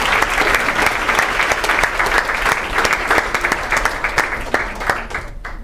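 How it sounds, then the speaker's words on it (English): Loud, dense audience applause fills a hall steadily, many hands clapping at once, then thins slightly at the very end. "How about a big round of applause for these agencies?"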